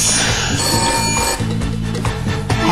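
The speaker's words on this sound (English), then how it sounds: "pick up the phone" A telephone rings repeatedly over loud, continuous background music, with no voices.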